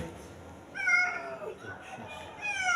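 A thin stray cat meows from inside a pet carrier, two drawn-out mewing calls, close and moderately loud over faint background noise.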